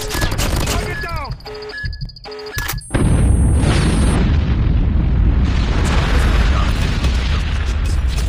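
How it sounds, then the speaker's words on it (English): A nuke detonates in a first-person shooter game. After a few seconds of game tones and beeps, a sudden loud blast breaks into a sustained, roaring rumble that fills the rest of the clip. "Warning, friendly nuke has been launched."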